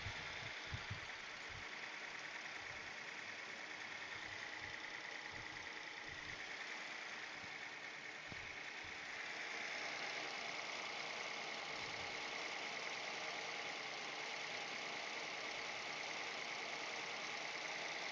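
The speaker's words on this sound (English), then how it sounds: "Hopefully you guys can still hear me even if the engine is going." A Datsun 240Z engine idles steadily throughout, a continuous low rumble with some irregular low thumps in the first half, no talking over it.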